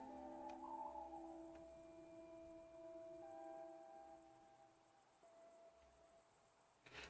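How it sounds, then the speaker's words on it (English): High, sharp cricket chirping in a night scene of the game Fall of Porcupine, a steady shrill pulsing trill that runs throughout, with faint tonal game sounds underneath. "A very sharp chirping noise."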